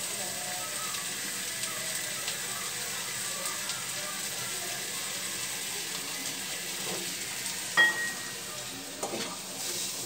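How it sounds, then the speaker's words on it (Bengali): Onions lightly frying in a pan for a bitter gourd and tomato mash, a steady close sizzle with occasional stirring scrapes and clinks and no talking. "আমি এখন একটু পেঁয়াজ একটু হালকা করে ভেজে নিব।"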